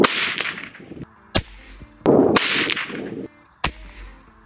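A .22 Long Rifle fires CCI Stinger rounds: several sharp, loud cracks, each ringing off briefly, spaced irregularly over a few seconds with shuffling noise between.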